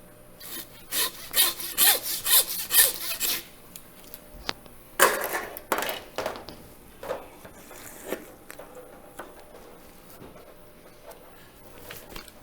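A pork belly slab has its ham cut off with a hand saw for hickory-smoked bacon. There is a run of quick, rhythmic rasping saw strokes, then slower, scattered strokes and scraping that fade out, close up with no talking.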